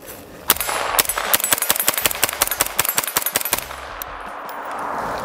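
A rapid string of sharp gunshots from an AR-9 pistol-caliber carbine fitted with an EOTech sight and SB Tactical PDW brace, about fifteen loud close reports at an even quick pace, then ringing quiet.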